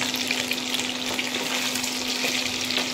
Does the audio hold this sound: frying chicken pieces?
yes